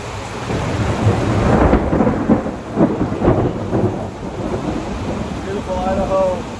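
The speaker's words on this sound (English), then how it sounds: "Working out in the rain, thunderstorms." Summer thunderstorm in Idaho with steady rain and several rolling thunder rumbles, loud and close, filling the whole stretch with no talk.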